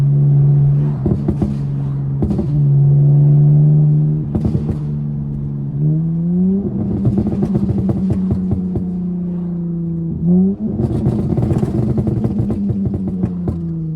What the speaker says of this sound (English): Downshifts sound crazy